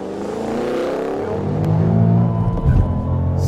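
A 2013 Ford Shelby GT500 launches hard from a standstill at about 3,800 rpm, its engine roar climbing loud and close as the car pulls away, with a rough rumble near the end.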